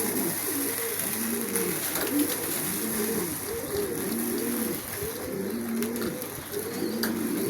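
Pet pigeons or doves kept in a Lahore bird setup coo repeatedly in a steady, rhythmic pattern while pecking at grit grain from a tray, close and clear with no talking.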